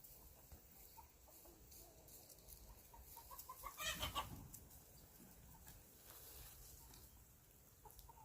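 Farm chickens cluck around the coop on a Texas farm, faint and scattered at first, then a louder burst of clucking in the middle before settling back to quiet background noise.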